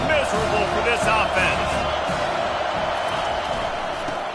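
A large football stadium crowd roars steadily in a broad, continuous wash of noise, loud and sustained throughout, with an announcer talking over it and brief swells of cheering.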